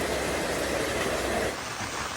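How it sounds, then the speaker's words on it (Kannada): Heavy morning rain falls on a village street, a steady, fairly soft wash of noise that dips slightly near the end, with no voices. "ನಮ್ಮೂರಲ್ಲಿ ಜೋರಾಗಿ ಮಳೆ ಬರ್ತಾ ಇದೆ"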